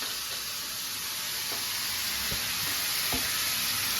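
Chicken fries in a kadai at a street food stall for shawarma: a steady, close sizzle runs throughout, with a few soft stirring scrapes and clinks.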